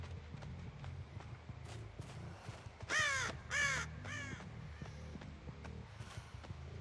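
Three loud crow caws in a video game sound in quick succession over a steady background of soft footsteps and faint ambient noise.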